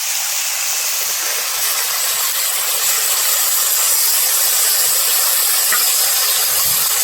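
Potato, eggplant and beans fry in a pan with a loud, continuous, even sizzling hiss that holds steady throughout.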